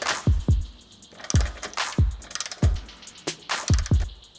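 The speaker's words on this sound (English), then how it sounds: "tighten down our tow strap, and use the nut obviously to torque everything down" A ratchet tightens a nut onto the bolt holding a tow strap on a Honda Civic, sounding as sharp, close, evenly spaced metallic clicks in short strokes, loud and alone.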